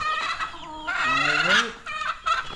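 Chickens cluck and squawk loudly up close, several overlapping calls in quick succession with no talking.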